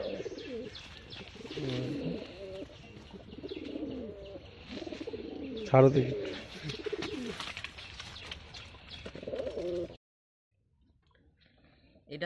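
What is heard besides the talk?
white Madras pigeon cooing in a loft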